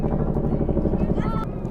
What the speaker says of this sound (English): we got a super giant helicopter up there.